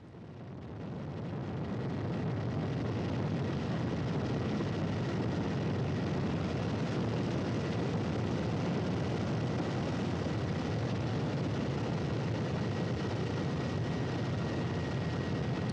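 A constant, loud mechanical drone of Russian search and recovery helicopter engines and rotor noise, holding steady after a brief rise at the start, with no voices.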